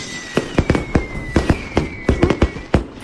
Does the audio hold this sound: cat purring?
no